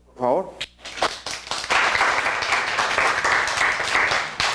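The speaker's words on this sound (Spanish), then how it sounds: "Un aplauso, por favor." Students at the end of a class break into applause, dense steady clapping that swells after a brief voice at the start and carries on loudly to the end.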